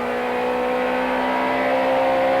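A Supertouring race car at the 1994 East London circuit in South Africa comes out of the horseshoe hairpin onto the back straight, its engine a steady, loud, high-pitched whine that climbs slightly as it pulls away.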